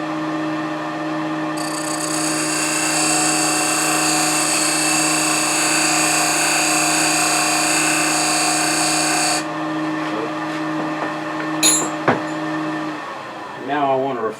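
A D-way beading and parting tool cuts a 1/8 inch bead into wood spinning on a lathe, a steady whine with a sustained high cutting hiss that stops partway through, then faint handling noises.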